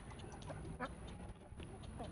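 Wild migrating ducks quack on a farm with flood-irrigated fields, birds spread through grass and water; a few short quacks come through faint and distant over a steady outdoor hiss.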